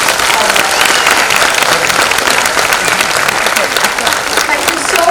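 Loud, dense audience applause for a dance team after a Durga dance drama performance, sustained evenly for the whole stretch, close and full.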